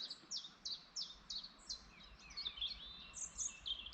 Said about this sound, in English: Chiff-chaffs are out.